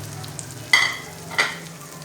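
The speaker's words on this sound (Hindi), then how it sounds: "अब फिर दूसरी साइड को डालेंगे इसके अंदर और इस साइड से भी पकने देंगे" An omelette frying in a pan on its second side, a low steady sizzle broken by two brief louder bursts of hissing, close by.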